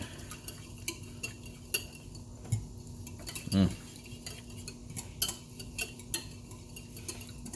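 A utensil scrapes and clinks through a pan of fresh thyme, rosemary and garlic, with soft scattered stirring taps and one louder knock midway, quiet and close.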